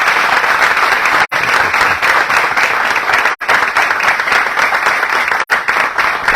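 Loud, sustained applause from a lecture audience after a talk on the Mahabharata, a thick continuous clapping with three brief dropouts where the sound cuts out momentarily.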